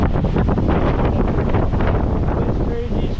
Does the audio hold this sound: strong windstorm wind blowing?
yes